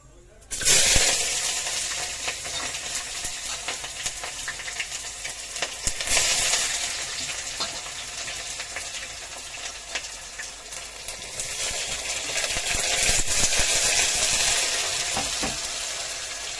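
Sliced onions sizzle steadily in hot oil in a covered pan, a dense hiss that swells after the onions go in and holds throughout, with occasional clinks and scrapes and a voice speaking briefly now and then.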